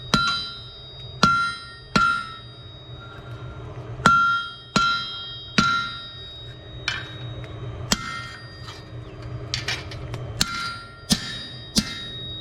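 A hammer strikes a Maasai spear blade while it is forged and flattened, about a dozen sharp, ringing blows landing in uneven bursts with short pauses, close and clear, with no talking.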